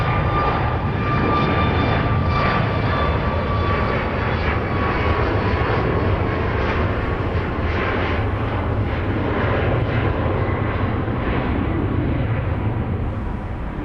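A Southwest airliner landing on runway 31 right at Dallas Love Field at night, its engines a loud, steady, close roar with a rumbling low end and a faint whine, sustained throughout with no voices.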